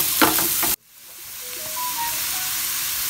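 Onions sautéing in a pan with a pinch of salt for chicken pola give a loud sizzle that cuts off abruptly, then a softer, steady frying hiss slowly builds back up, with no talk.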